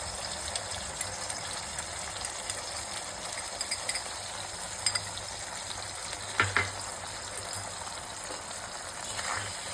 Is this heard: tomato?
yes